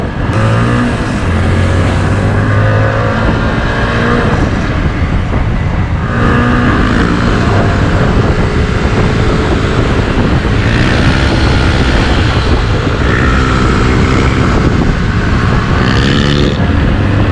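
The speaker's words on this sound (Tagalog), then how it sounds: "Sobrang smooth yung makina ngayon guys." A Yamaha TFX 150 motorcycle engine hums steadily while riding, with gear-shift pitch sweeps and heavy wind buffeting, loud and continuous.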